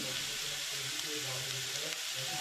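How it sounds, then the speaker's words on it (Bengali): Cauliflower and other vegetables frying with onion in a pan, a soft, even sizzle that stays steady and fairly faint, with no voices over it. "ফুলকপি যেহেতু ভাজতে একটু টাইম লাগে সেই জন্য ফুলকপিটা আগে দিয়ে দিলাম"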